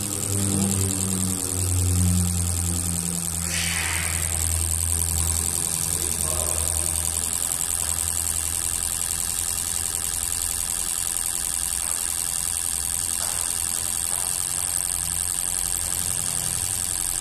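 A 2009 Chevrolet Astra engine runs steadily with a cylinder misfire, a close and continuous mid-pitched drone with faint knocking and an uneven pulse throughout, and no talk over it.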